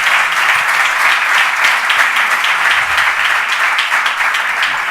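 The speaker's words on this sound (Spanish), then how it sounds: "Un fuerte aplauso para ellos" An audience at a round-table session on road design factors applauds, loud sustained clapping from many hands with an even, dense texture throughout.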